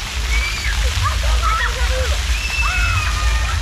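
Public fountain jets at Montreux, Switzerland, splash and slosh continuously at close range while people nearby chatter and call out.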